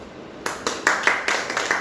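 A small group claps in a training hall, a few loose, uneven bursts of hand claps that quickly trail off, fairly close with a faint background hum.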